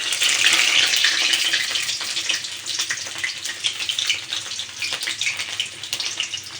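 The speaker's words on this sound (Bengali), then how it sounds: "তেল গরম হয়ে গেছে, আমি এক এক করে ভেন্ডিগুলো" Okra sizzling in hot oil in a wok gives a bright, crackling hiss that starts strong, then settles into uneven spitting pops, close and fairly quiet, with no talking.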